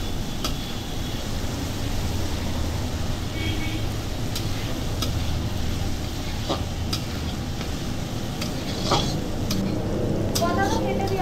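Mixed fried rice with egg being stirred in a pan, with a steady low sizzle under intermittent scraping and clacking of the utensil against the pan, plus occasional faint clinks.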